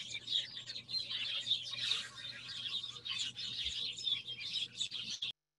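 Birds chirp and tweet outdoors in a wildlife-rich area around Bishop, a steady overlapping chorus of small high calls at moderate distance with no one talking.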